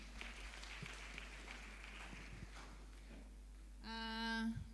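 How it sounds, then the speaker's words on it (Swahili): A church congregation at a Kikuyu service gives faint, scattered applause for several seconds, ending in a sustained musical tone. "Makofi kwao."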